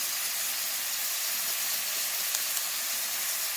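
Food simmering over low heat in a pan, with a steady, even hiss and gentle sizzle throughout, quiet and close, with no talk.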